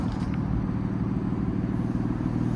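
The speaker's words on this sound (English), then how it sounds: "This titanium exhaust sounds awesome." A 2017 BMW M3 Competition with a titanium exhaust idles in a deep, steady rumble, close and even throughout.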